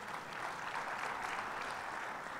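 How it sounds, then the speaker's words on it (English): Audience applause in a hall at an African insurance companies summit, steady clapping from a crowd, fairly distant and even throughout. "I think you need to clap for that."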